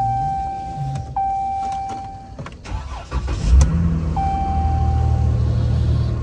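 A used salvage car at a Copart auction yard, with deployed airbags, chimes a steady warning tone. Its engine then cranks, fires and settles into a loud, close idle.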